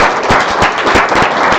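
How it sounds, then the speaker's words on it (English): Audience applause for the speakers at a Salt Lake City Python meetup, a room of people clapping steadily and loudly throughout, with brief sharp claps standing out. "Let's give a round of applause to all the speakers."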